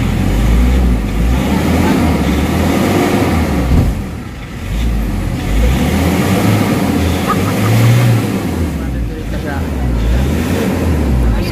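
A Nissan NV350 Urban Premium van with a low-power, throttle-delay fault runs with a loud, steady low rumble that swells and dips slightly, heard from close by amid broadband road-like noise.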